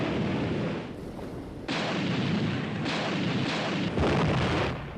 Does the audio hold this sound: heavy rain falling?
no